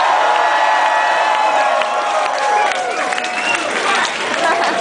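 A concert audience at London Music Hall cheers and applauds after a hip-hop encore, loud sustained clapping with whoops and shouts rising over one another, close and enveloping throughout.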